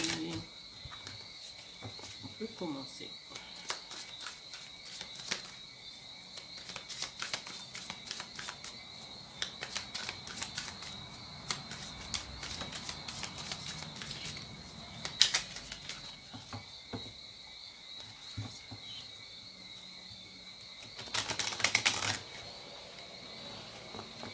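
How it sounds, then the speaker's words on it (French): Tarot cards being shuffled at a table, a close, steady run of soft riffling flutters and light slaps lasting most of the stretch, with a brief louder burst near the end and no talking. "je bats les cartes tout de suite, comme ça c'est fait"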